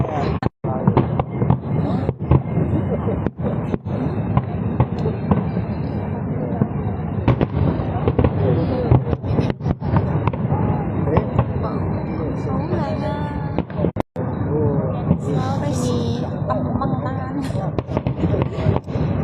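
Chinese New Year fireworks in Hong Kong crack and bang repeatedly at a distance while several people chat and react close by.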